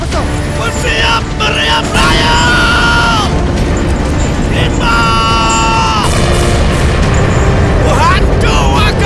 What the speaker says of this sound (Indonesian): Bersiap meriam raya. Timbak.